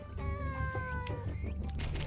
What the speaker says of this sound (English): Get out of here, cat.